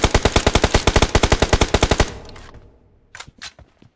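Automatic gunfire in the mobile battle royale game BGMI: a rapid, loud, evenly spaced burst of about twenty shots over two seconds, followed by a fading tail and a few scattered distant shots, with no talking.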